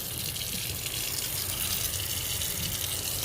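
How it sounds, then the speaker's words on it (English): Fingers rinsed under a running kitchen tap, a steady close rush of water splashing into the sink without pause. "rinse my fingers off here"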